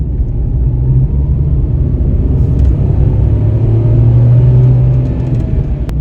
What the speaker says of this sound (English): One is the sound of its engine.